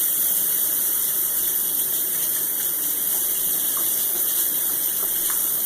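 Running water from a tap pours steadily over kefir curds being rinsed in a kitchen sink, a continuous close hiss with no voices.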